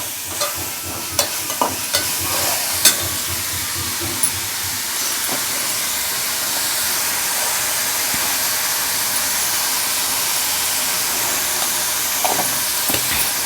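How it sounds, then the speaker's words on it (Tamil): Onions fry in a pan for egg curry, a continuous loud sizzling hiss with several sharp scraping stirs early on and a few more near the end. "நல்லா வெங்காயம் ஃப்ரை ஆகட்டும்."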